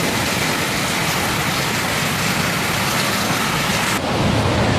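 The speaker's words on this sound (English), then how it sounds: "It's so melodious, that sound of the rain pitter-pattering on the roof." Steady rain falling on a roof, a dense, continuous hiss of patter that stays loud and even throughout, with no voices.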